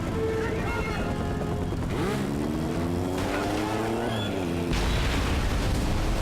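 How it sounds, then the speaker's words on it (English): In the video game Mercenaries 2, a smart bomb is called in. Droning, rising engine tones fill the first few seconds, then a heavy broadband blast hits near the end and keeps roaring loudly to the close. "he's calling a smart bomb down below, and it's about to come in"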